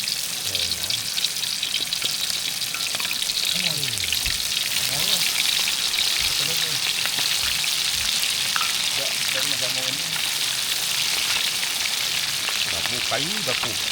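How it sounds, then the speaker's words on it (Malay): Food sizzles steadily in a pan over a wood-fired stove during a forest hiking trip, a constant crackling hiss with people talking quietly nearby. "Tengah menggoreng."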